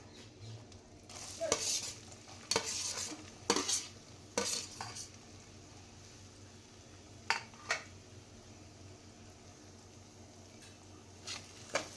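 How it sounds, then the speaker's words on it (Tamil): Onions frying in butter with cumin seeds for Gujarati-style pav bhaji. Quiet, close spoon-against-pan scraping comes in spaced bursts over a faint sizzle, and the stirring thins out toward the end. "இந்த பட்டரில் நல்லா வெங்காயம் வதங்கும்"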